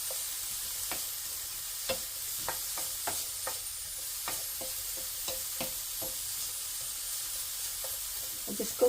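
Minced garlic and onions frying in a pan for a stuffed portobello mushroom dish, with a quiet, steady sizzle broken by repeated sharp scrapes and clicks of stirring, close and alone without talk.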